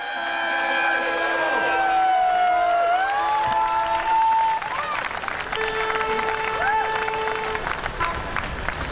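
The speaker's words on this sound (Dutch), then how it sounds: "Ja, ze juichen al, ze houden het in de gaten." At the Frisian Solar Challenge finish, spectators cheer and applaud steadily, with loud crowd noise, sustained horn tones rising and falling, and a commentator talking over it.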